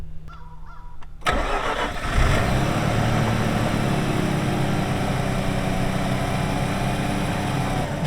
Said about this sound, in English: I'm going to try and start it for the first time in a month.